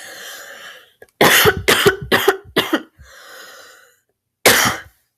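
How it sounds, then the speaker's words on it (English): A burst of harsh, close coughs, four or five in quick succession, then a breathy pause and one more loud cough. "I got a cough again."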